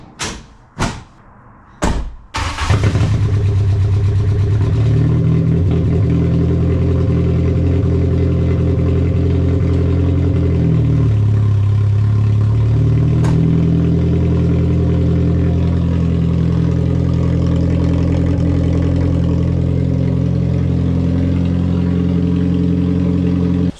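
A MK2 Jetta with its exhaust fallen off runs steadily after a few door slams, a loud, close, rumbling idle that shifts slightly in pitch midway as the car is turned around.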